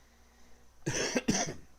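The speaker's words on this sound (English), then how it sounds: "Sorry for the coughing." Two quick, close coughs in succession, a brief harsh burst each, against a quiet background.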